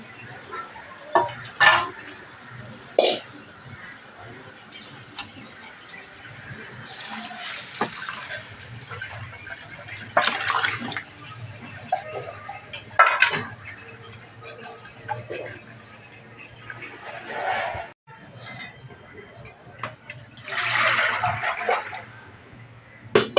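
Water is poured from a vessel into a pot of rice for cooking, several separate splashing pours with clinks of utensils and bits of talk between them.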